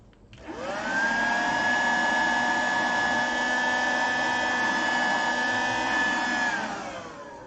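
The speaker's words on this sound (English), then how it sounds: "got to use the vacuum cleaner again" A vacuum cleaner starts up, quickly reaches a loud, steady whirring whine, holds it for several seconds, then winds down. It runs alone with no talking.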